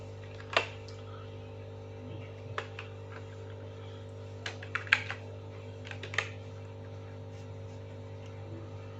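Computer keys click in sparse, irregular taps while a resume is typed in MS Word, faint and close over a steady electrical hum.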